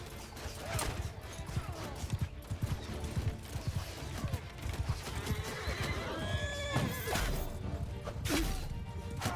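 Horses neigh and whinny amid steady hoof clip-clop and clashing battle noise in the medieval combat game Bannerlord, with cavalry close and loud throughout.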